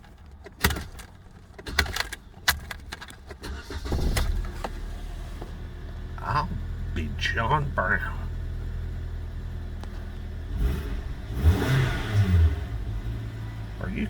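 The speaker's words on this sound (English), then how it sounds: "Let's crank her up and see if see what" A 2008 Kia Optima LX with a four-cylinder engine cranks and starts, then revs in a few rising pulls. Earlier there are clicks and a door-like thump, and someone talks over the engine.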